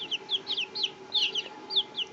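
Young chickens, including a cockerel too young to crow, cluck and chirp in quick repeated bursts close to the microphone, about a dozen short calls over a faint steady hum.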